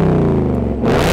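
A Ford Mustang 5.0 V8 rumbles loudly and steadily up close, with a deep low roar that swells in a rev near the end.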